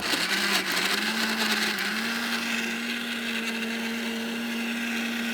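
A Sumeet mixer grinder spins up and then runs at a steady, loud electric whine that settles into a constant pitch, close by and with no talk.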